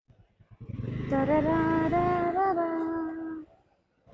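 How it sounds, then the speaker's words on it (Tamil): A motorcycle rides along a road, its engine drone rising to a steady, loud hum after a few low putters, holding for a couple of seconds before fading away quickly. "வண்டி போகுது."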